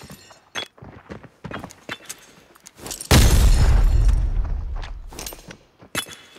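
A grenade goes off in the shooter game Arena Breakout, a sudden loud, close blast with a deep boom that rolls and fades over a couple of seconds, framed by scattered footsteps and clicks.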